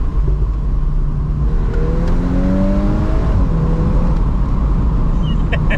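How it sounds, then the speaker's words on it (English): A Volkswagen Golf R Mk8 engine revving through its standard exhaust without a resonator, pitch rising and falling in several sweeps over a deep, loud rumble. "look at the sound that comes out of this. This is a standard exhaust."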